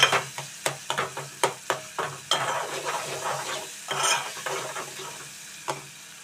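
Tomatoes softening in a pan for a sour greens-and-tomato curry, with a spoon scraping and stirring in repeated sharp strokes over a low simmering sizzle, close and moderately loud, no talking.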